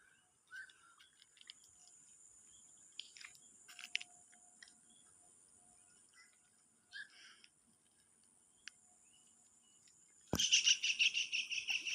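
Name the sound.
birds calling at dusk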